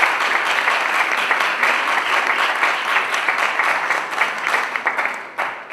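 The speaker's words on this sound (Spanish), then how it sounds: "También les pido un fuerte aplauso para la maestra Cristina Alvarado." An audience at a school panel event applauds steadily and loudly in a continuous dense wash of clapping for a teacher, with no talk over it.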